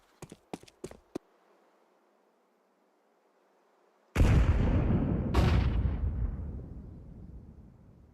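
Counter-Strike grenades go off in a burst: a few sharp clicks first, then a loud, close blast whose rumble rolls on and fades over several seconds, with a second hit partway through.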